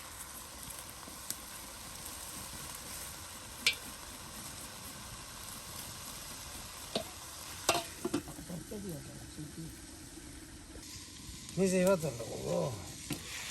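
Bitter gourd (karela) fries in a pan over a rustic village cooking fire, with a soft, steady sizzle, occasional scraping stirs, and a voice speaking briefly toward the end.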